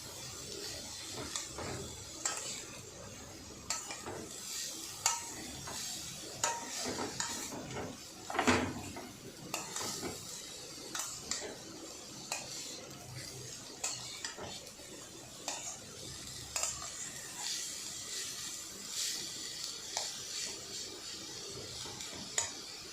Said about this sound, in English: Let us fry it until you get good aroma and it loses its raw taste.